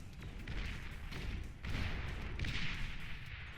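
Long-range railgun lances firing in the strategy game Beyond All Reason, heavy booming discharges landing at irregular intervals over a dense rumbling battle din.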